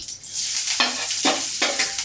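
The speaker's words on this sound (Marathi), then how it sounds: "वाव सुंदर अशी कांद्याची फोडणी." Onion and mustard seed tempering sizzling in hot oil, loud and close, with bursts of frying hiss as the pan is stirred.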